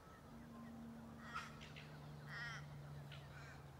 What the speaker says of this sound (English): A heap of ducks, a family of ducks.